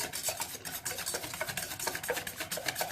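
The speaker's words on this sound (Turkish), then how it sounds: "Güzelce bunu çırpalım iyice" Steady rapid rasping of a whisk beating egg and sugar together in a bowl for soufflé batter, a continuous scraping rhythm close up with no talking.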